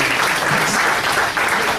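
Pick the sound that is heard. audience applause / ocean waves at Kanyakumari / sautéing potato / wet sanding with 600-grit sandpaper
audience applause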